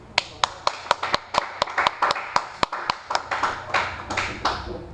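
A small group clapping hands in a classroom-style lesson on gearbox drawings, sharp separate claps in an uneven quick rhythm, close and fairly clear, fading into a looser patter near the end.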